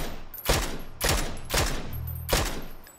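Bursts of automatic gunfire from the video game PUBG on the Erangel map, four loud rapid volleys spaced about half a second apart, close and alone.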